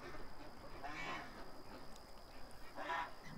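Ducks give two short, faint quacks, one after the other, against a quiet outdoor background with no talking.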